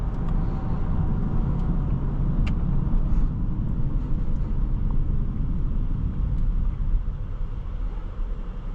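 A 2022 Audi S5 3.0T Sportback Premium Plus engine drones steadily from inside the cabin while driving, a dense low rumble with road noise and no talking.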